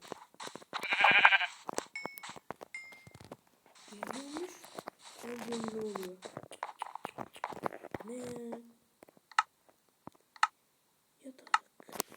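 Sheep bleat on and off in a farmyard, with several wavering calls at moderate distance mixed with clicks and shuffling, while someone talks over parts of it.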